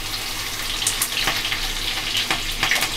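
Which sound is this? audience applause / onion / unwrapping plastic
onion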